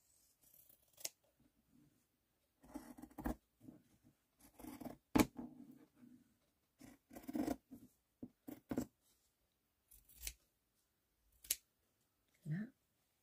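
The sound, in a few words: cutting material along marked lines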